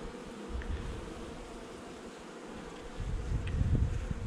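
Honeybees hang in a cluster below drone brood at an open hive, keeping up a steady low buzzing that swells louder toward the end, with no talk.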